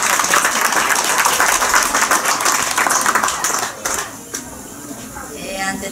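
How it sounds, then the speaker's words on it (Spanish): Dense applause from a crowd at a quinceañera party in Tarapoto, loud and sustained for several seconds before thinning into scattered claps and room noise. "¡Fuerte los aplausos!"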